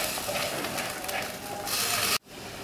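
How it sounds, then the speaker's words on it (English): Spice mixture frying in oil for Malaysian fried bihun siam, a dense, steady close-up sizzle that cuts out abruptly near the end and then returns. "we'll fry the spice mixture until the oil separates from the spices"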